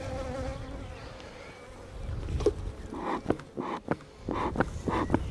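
Honeybees hum and buzz close by at an open hive being lightly smoked, with scattered rustling and knocks over a low drone.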